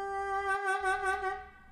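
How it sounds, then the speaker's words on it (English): A single sustained VHorns saxophone sample note, clean and close, holding steady at first before a vibrato gradually swells in partway through, with no other sounds. "like this track which I've labelled Delayed Vib and it sounds like this"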